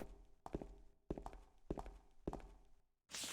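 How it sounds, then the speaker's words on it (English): Footsteps of Maria, a woman in the horror video game Silent Hill 2, sound as four evenly spaced, fairly loud heel-like thuds on a hard floor over a dull low ambient drone, with no talk. "And now we have her footsteps as well."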